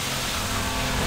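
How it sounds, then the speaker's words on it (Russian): A vehicle engine running in Garry's Mod, a steady, loud, even drone with a low rumble and broad noisy hiss, unbroken for the whole short stretch. "Прикольно, движок так работает."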